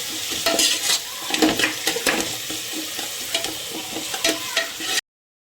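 Masala with homemade ginger-garlic paste is stir-fried for aloo biryani, with busy scraping stirs and clatter over a sizzle, up close. It ends abruptly in silence near the five-second mark.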